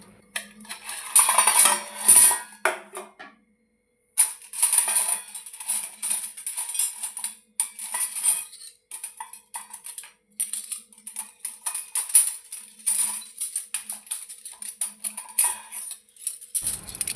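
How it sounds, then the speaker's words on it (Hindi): Metal utensils and kitchen dishes clinking and clattering as they are put away, a busy run of bright jangles with a brief quiet gap near the start, no talking. "बर्तन हैं अपने उनको अपनी जगह पे रख देती हूँ।"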